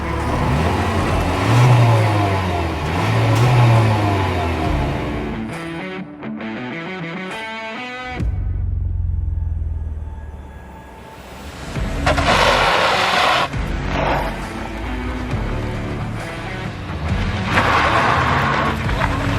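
An old-school Honda Civic 1.8 manual and a Skoda Laura TSI manual drag race with loud engines revving hard. The pitch climbs through gear changes, drops to a lower drone midway, then surges again with wind and road roar.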